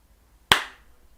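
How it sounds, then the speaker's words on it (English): One sharp hand clap rings out alone in a quiet room, a single crisp snap with a short decaying tail. "Oh, clap."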